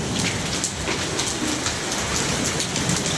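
Rain pours steadily in a dense hiss across a surface, loud and continuous without pauses and with no talking.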